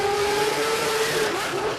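Mazfix Racing Mazda 6 drag car idling and rolling slowly toward the burnout box at a sports compact drag event, a steady nearby engine drone with a faint whine over crowd and track noise.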